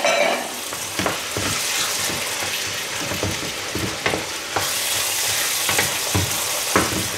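Tomatoes and other ingredients frying in a pot as they are stirred, a steady loud sizzle with repeated scraping and clacking of the spoon against the pot throughout, no one speaking.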